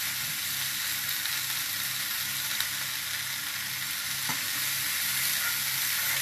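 Diced Australian garlic sizzles in a hot pan with wilting greens: a loud, steady, close frying hiss that holds evenly throughout, with a faint tap near the end and no talking.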